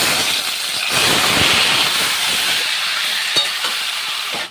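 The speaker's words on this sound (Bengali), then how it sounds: "আর এবারে কিন্তু আমি কচু শাকটা দিয়ে দেবো।" Taro leaves sizzle loudly in hot mustard oil with panch phoron, green chilli, dried red chillies and bay leaves, a steady broad hiss with soft stirring scrapes throughout, close by and alone.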